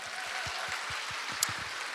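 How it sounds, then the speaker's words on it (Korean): Applause from an audience at a Korean leadership lecture, a broad wash of clapping with a few distinct claps standing out, steady over two seconds with no talking. "박수 한번 주세요."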